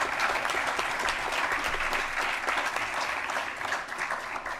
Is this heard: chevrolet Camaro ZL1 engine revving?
no